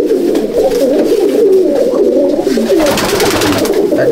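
Pigeons in a loft cooing continuously in low, rolling, overlapping calls, close and loud, with faint rustling behind.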